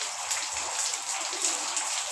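Heavy rain pours down in Multan during a hailstorm with a dense, steady hiss, and sharp droplet spatters rise briefly out of the continuous wash.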